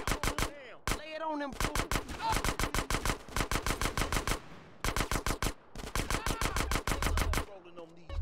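Rapid bursts of automatic gunfire in GTA San Andreas, long rattling volleys broken by short pauses, loud and close, with a brief spoken interjection.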